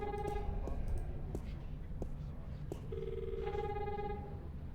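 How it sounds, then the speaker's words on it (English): A telephone rings in The Longest Journey game: two bursts of an electronic trilling ring separated by a pause, heard over low background noise and faint clicks. "there's a phone call for you"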